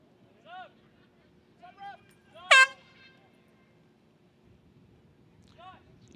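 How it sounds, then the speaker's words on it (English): A few short air horn honks sound at a basketball game, then one louder, sharper blast stands out in the middle, with another short toot near the end. "You hear the air horn"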